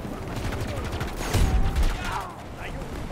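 Gunfire in the shooter game Battlefield 2042, a burst of mechanical rattling shots with a heavier thump near the middle, mixed with game background noise and faint talk.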